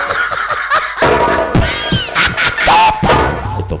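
A man imitates a cat's meow with his voice, giving repeated nasal, wavering mews that rise and fall over a few seconds, loud and close, amid other chatter and sounds from a folk theatre show.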